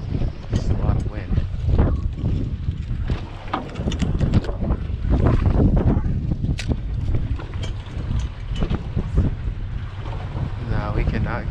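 Strong wind buffeting a fishing boat out on the water, a constant loud roar with gusty swells and mic rumble throughout, and a voice talking over it.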